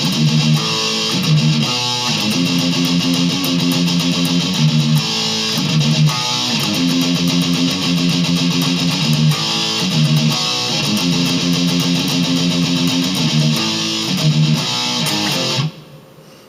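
Distorted electric guitar plays a riff, dense chugging palm-muted notes and chords repeating in a driving rhythm, loud and continuous, cutting off abruptly near the end; no voices.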